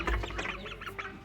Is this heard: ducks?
yes